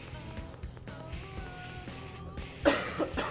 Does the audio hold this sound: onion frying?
no